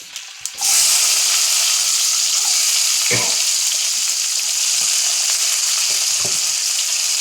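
Onions drop into hot oil in a pan and set off a loud, steady sizzle that runs unbroken, with a few soft clinks of stirring.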